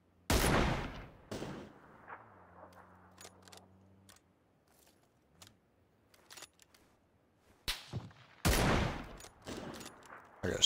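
Bursts of gunfire crack out in a battle royale video game, with sharp loud shots early on and again near the end, separated by quiet stretches with a low hum and faint clicks.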